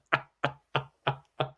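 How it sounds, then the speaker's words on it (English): A man bangs on a table at a lively stock-trading bid, five sharp, evenly spaced thuds about a third of a second apart, close and loud with no talk over them. "He's banging on the table."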